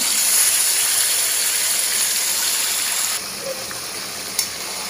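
Chicken pieces frying in a little oil in a pan for biryani, a steady close broadband sizzle and hiss that drops slightly in level partway through, with a brief clink near the end.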